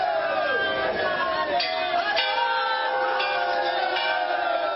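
Devotees throng a Shiva temple on a Sawan Monday, a dense crowd murmur and chanting rising together as a continuous roar with distinct voices calling out over the mass.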